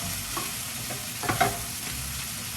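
Brussels sprouts being stirred in a pan, seasoned with Spike, giving a soft steady sizzle with a brief cluster of scraping stirs in the middle, close and fairly quiet.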